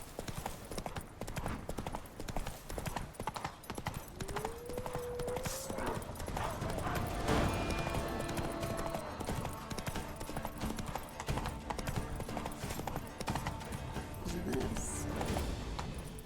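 Roach the horse trotting with steady clip-clop hooves in The Witcher 3, the rhythmic footfalls continuing throughout over game ambience, with a brief whinny and a voice talking now and then.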